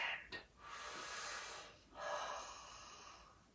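Deep, steady breaths drawn in and pushed out during a gentle core workout for seniors, one sharp intake followed by two long airy exhales, close and alone with no talking.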